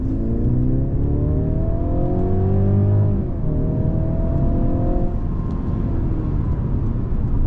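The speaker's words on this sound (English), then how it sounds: "So if you come to an intersection like this, you just want to depart and accelerate real quick." A 2023 Mercedes C300 4MATIC sedan in sport plus mode pulls away hard from an intersection, its engine note rising steadily through the revs with a brief dip at a shift, loud and continuous with no talk.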